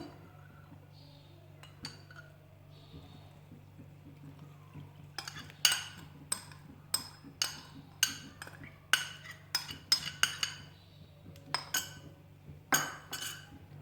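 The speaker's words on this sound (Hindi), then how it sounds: "और इसको अब हम इसी नीम गर्म दूध से मिक्स कर लेंगे।" Bun dough ingredients mixed with lukewarm milk in a bowl: quiet scraping at first, then a series of sharp clinks and knocks of a spoon against the bowl in an uneven rhythm, close and fairly loud.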